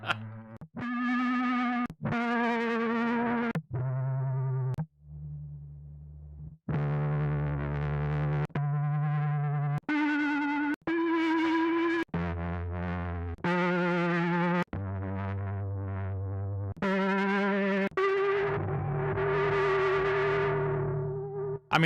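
A sampler library instrument played through a heavily distorted "destroyed" preset, loud sustained harmonic notes with a gritty, buzzing edge, separated by short breaks and played alone with no talking.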